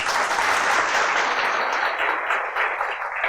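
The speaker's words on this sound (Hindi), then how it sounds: "ताली तो लोग दबाव में बजाए थे कि सब बजा रहे हैं।" Applause from a seminar audience in Indore, a dense steady wash of many hands clapping together, loud and continuous, slowly thinning toward the end with no voices over it.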